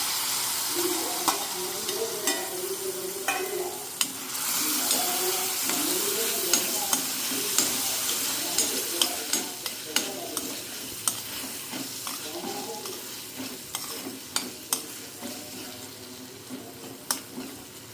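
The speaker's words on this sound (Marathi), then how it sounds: "त्याच्यात तो मी काजूगर जो आपण भिजवून त्याच्या सालं काढून घेतलेला आहे तो मी ह्याच्यात टाकून मिक्स करून घेते" Soaked, peeled cashews stirred into a sizzling tomato mixture in a pan, a steady frying hiss with repeated scraping clicks of the spoon throughout, close and fairly loud.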